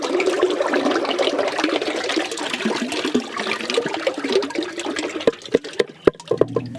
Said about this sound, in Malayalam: നല്ലോണം കുലുക്കി വെച്ചിരിക്കുന്ന ക്രഷ് എടുത്തിന് നേരെ നമ്മുടെ പാലിലേക്ക് ഒഴിച്ചു കൊടുക്കുകയാണ് നമ്മൾ